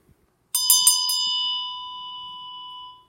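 A small Tibetan Buddhist ritual bell is struck several times in quick succession, then a bright, pure metallic tone rings out alone and slowly fades over a couple of seconds.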